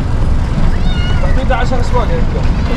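A cat meows a few times, close by, over a loud, steady rumble of background noise.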